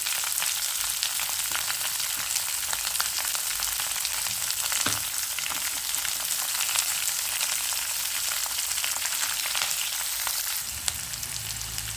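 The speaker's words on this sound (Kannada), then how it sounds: "ಸ್ವಲ್ಪ ಮೀಡಿಯಮ್ ಉರಿ ಮಾಡಿಕೊಂಡು ಇದೆಲ್ಲ ಬಾಡಿಸ್ಕೊಳ್ಳೋಂಥದ್ದು" Vegetables for vangibath sauté in a pan over a medium flame, with a steady, close sizzle and occasional stirring scrapes throughout.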